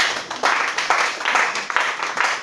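A church congregation claps and acclaims Jesus Christ during a Sunday worship service, with steady, dense applause swelling in waves and mixed cheering voices.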